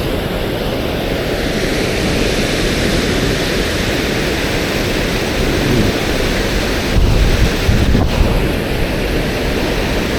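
Wind gusting hard across a microphone beside the Fox River, a loud, steady roar that swells briefly near the end, with no talking.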